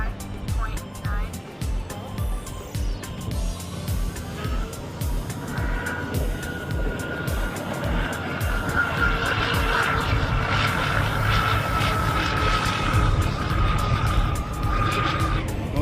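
A twin-hull RC catamaran boat running on a 6S battery with stock props, its motor whining and rising as it speeds across the water, growing louder and steadier over the second half, with a person talking.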